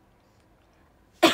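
A single sharp cough bursts out near the end after near silence, close and loud, from a woman livestreaming indoors.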